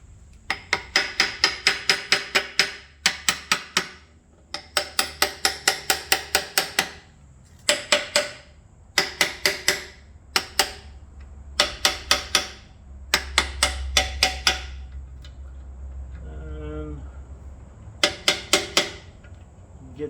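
Rapid bursts of close metallic hammer taps on a bolt during the rebuild of a McCormick Deering #9 horse-drawn mower, in repeated clusters of quick strikes with short pauses between.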